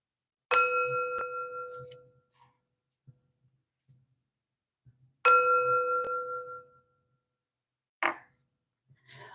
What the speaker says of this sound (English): And 3 chimes to bring in the positive energy.